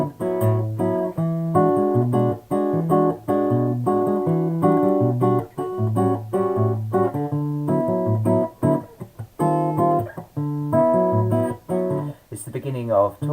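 A bossa nova chord progression in D, warm and jazzy, strummed in a steady syncopated rhythm, loud and close, with no voices, pausing briefly near the end.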